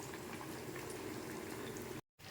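Bottle gourd sarvapindi vadas frying in oil on a low flame, a dense, even bubbling crackle that stays steady and soft, cutting out briefly near the end, with no speech.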